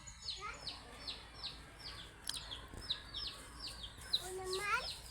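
Backyard chickens clucking near a poultry feeding and watering spot, several short bird calls repeating in a loose rhythm at moderate volume, with faint background noise.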